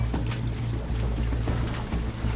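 Sea water floods into a boat through an opened floorboard, a steady churning, rushing wash with a low rumble underneath.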